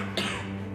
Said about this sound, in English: you run the risk of symptoms like cough